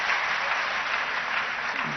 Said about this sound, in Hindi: जोरदार तालियों से आइए स्वागत करें कुणाल वर्मा का।